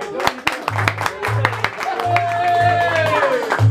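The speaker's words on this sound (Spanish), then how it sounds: "¿y será que el mariachi se merece un aplauso?" Audience applause for a youth mariachi band at a Mother's Day performance, a steady patter of clapping that builds and holds, with music or voices sounding over it.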